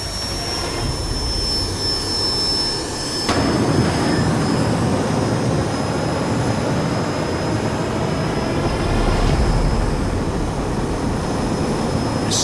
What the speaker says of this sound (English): Guy lights up the afterburner.